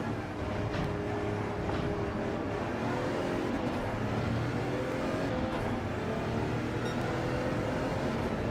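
Racing cars in Gran Turismo 7 at night in the rain, played in VR on a PS5 Pro, give a steady, dense engine drone. The roar stays loud and continuous throughout with no talk over it.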